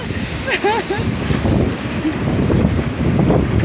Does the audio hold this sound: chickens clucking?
no